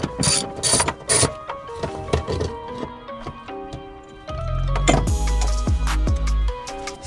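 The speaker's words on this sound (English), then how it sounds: "I need to loosen up these bolts around the actual fuel pump." A ratchet clicks in short bursts while loosening bolts around a fuel pump on an R35 Nissan GT-R, close and crisp, with a few heavier knocks in between.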